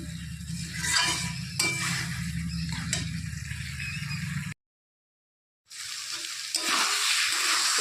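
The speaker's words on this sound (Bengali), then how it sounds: "এটা মশলাটাকে ভালো করে কষিয়ে নেব, একটু ধৈর্যের সঙ্গে, টাইম লাগবে।" Spice paste frying over medium heat in a Bengali home kitchen, a dense steady sizzle with intermittent scraping clinks of a spatula against the pan, broken by a brief full silence before the frying noise resumes.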